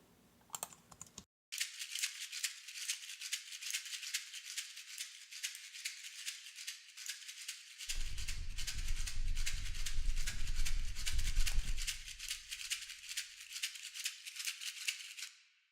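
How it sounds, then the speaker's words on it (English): A steady, bright shaker track from a country song mix rattles in a continuous rhythm, joined midway by a low rumbling layer that fades again. "Then we have a shaker here."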